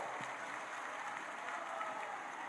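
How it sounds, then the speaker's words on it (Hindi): An audience at a BJP election rally in Bihar claps to welcome its party leaders, a continuous even wash of applause with a faint crowd murmur beneath it. "अपने नेताओं को ताली बजा करके जोरदार स्वागत करें"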